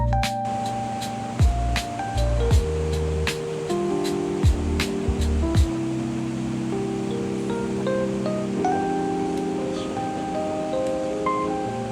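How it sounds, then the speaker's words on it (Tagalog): Tiered, step-like waterfalls in Fukuoka, Japan, make a steady broad rush of falling water, heard under overlaid music with sharp clicks and tones. "O diba, may pahagdan-hagdan waterfalls."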